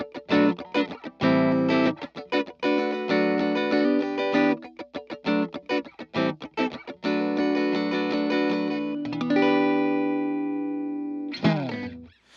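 Taylor T5 electric guitar on position 5 with volume and bass rolled back, playing a cleaner tone through a DC-30 amp: choppy strummed chords and stabs with short gaps, then a few longer ringing notes that fade out.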